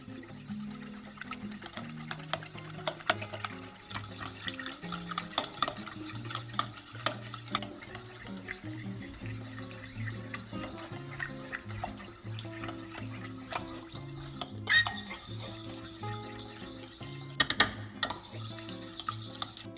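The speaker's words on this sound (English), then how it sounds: "now we're just going to mix it all together just how we did with the flour mixture" Lemon ricotta pancake ingredients are stirred together in a bowl, soft repeated scraping and light tapping clicks over a low, steady background hum.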